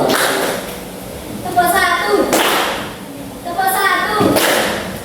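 Schoolchildren in a classroom do a clapping routine, hitting a few loud group claps and thumps in bursts, with children's voices and chatter running between and under the claps.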